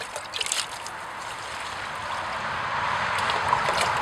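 Manure tea made from green wheat being poured from containers around garden plants, a steady close trickling and splashing of water onto soil, continuous and alone.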